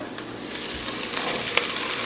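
Onions sizzle loudly in a pan while being tossed and browned for a spicy Indian chicken curry, a dense steady frying hiss with soft stirring scrapes, close and without talk.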